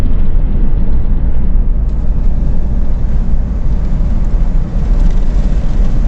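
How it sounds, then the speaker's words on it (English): Wind roars steadily past the open back of a moving truck, a loud, constant low rumble and buffeting with no break throughout. "You're going to hear some wind."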